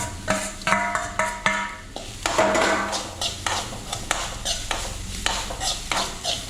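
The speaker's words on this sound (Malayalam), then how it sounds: "ഈ തേങ്ങ ഒന്ന് വറുത്തെടുക്കാം." Grated coconut roasting in a pan, with repeated scraping and clinking of a spoon stirring against metal and a soft sizzle underneath.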